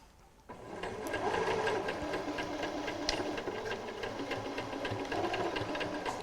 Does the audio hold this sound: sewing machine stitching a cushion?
yes